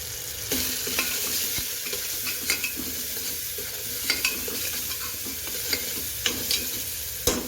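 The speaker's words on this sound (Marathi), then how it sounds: "छान एकत्र याला हलवून घेतलं आहे, आणि कारण की मसाले सगळे मिक्स होतील आणि छान मुरतील टोमॅटोमध्ये" Spice mix of turmeric and chilli powder being stirred into tomatoes in a hot pan, with a steady sizzle under repeated scraping and clinking of a utensil against the pan, close and without talk.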